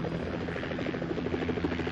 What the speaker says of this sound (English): Helicopters are in the sky.